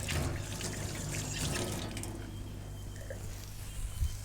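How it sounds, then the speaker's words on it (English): Water runs steadily from a kitchen tap for about four seconds while hands are rinsed under it, a close, continuous splashing with no talk, in a home kitchen during burger cooking. "Just going to give my hands a wash."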